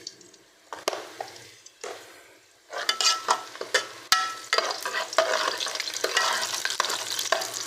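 Onions frying in a pan for a spicy potato and green chilli dish, stirred with repeated scraping strokes over a steady sizzle that grows louder partway through; no voices.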